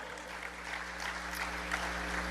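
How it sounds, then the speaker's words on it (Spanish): A church congregation claps together in a continuous, moderately loud patter over a low steady hum, with no talking. "Dar un aplauso al Señor por esto."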